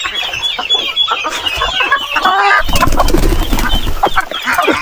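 A hen clucks loudly and repeatedly up close at a farm house just after laying eggs, with a dense burst of busier cackling in the second half.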